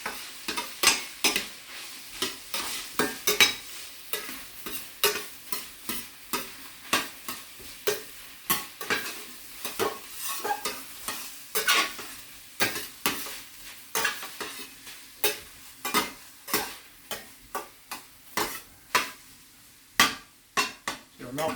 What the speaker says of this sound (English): Melting the butter in there real nice.